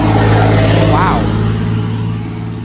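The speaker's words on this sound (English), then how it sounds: "That FedEx truck is zooming." A FedEx delivery truck roars past at speed, a loud, rough-running engine drone that sounds worn and rattly, fading slightly as it passes outdoors.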